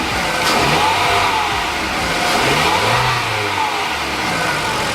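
Car engine rising from idle as the throttle opens, a steady close mid-pitched drone climbing in pitch and loudness over about five seconds with no voices.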